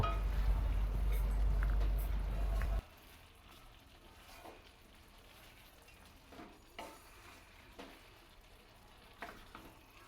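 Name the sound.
stirring bottle gourd and fried prawns in a pan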